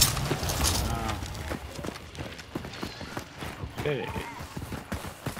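Horse hooves in Hunt: Showdown clop at a quick running rhythm, moderately close, with a brief whinny-like tone partway through, beneath people talking.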